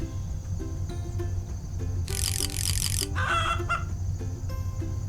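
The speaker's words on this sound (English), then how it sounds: "It's another chicken!" Chickens on a farm cluck and squawk close by, with a burst of loud agitated cackling in the middle, over a constant background of chirping insects.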